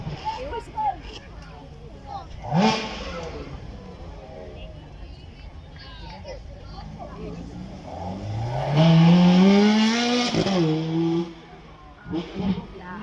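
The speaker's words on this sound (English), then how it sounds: "Listen to how quickly that V8 revs up." A Ferrari 430 Scuderia V8 revs high, climbing sharply in pitch several times, roaring loudly near the end before dropping off, with a few short blips after, at a supercar demonstration run.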